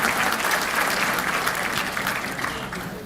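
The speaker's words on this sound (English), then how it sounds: "let's give all of those constitutional officers a round of applause" Sustained audience applause for constitutional officers at a city State of the City event in Suffolk, Virginia, dense and steady throughout, easing slightly near the end.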